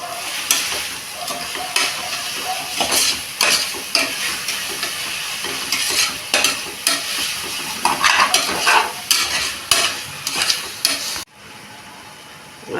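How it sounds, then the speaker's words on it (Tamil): Tomatoes, mint and coriander sauté in a pan, with steady frying sizzle and repeated close spoon scrapes and stirs for about eleven seconds, then a sudden drop to quiet. "தக்காளியும் நல்லா குழையணும். புதினா, கொத்தமல்லி 1 கை போட்டுக்கலாம். அதை நல்லா வதக்கி விட்டு"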